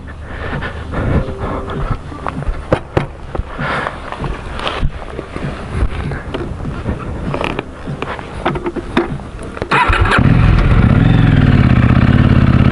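Motorcycles passing on a ride through the Flinders, heard from a riding bike: a steady engine drone with wind rush and fluctuating passes, ending in a loud, sustained engine roar close up, no talk.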